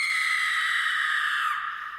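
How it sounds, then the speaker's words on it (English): A woman's piercing shriek of fear, wild and sustained for about a second and a half before fading, loud and close with no talk over it. "piercing shriek."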